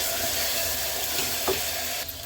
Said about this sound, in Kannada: ಹಸಿ ವಾಸನೆ ಹೋಗೋ ಥರ ಚೆನ್ನಾಗಿ ಫ್ರೈ ಮಾಡ್ಕೊಬೇಕು.